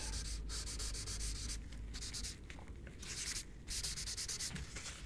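A finger smudges pencil on drawing paper, making soft, close scratchy rubbing strokes in uneven bursts, faint and steady with no voice over it.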